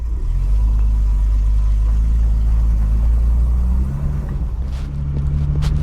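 A car fitted with a rebuilt TH180 automatic transmission is driving, giving a steady, loud, low engine rumble that eases slightly near the end, with no voices.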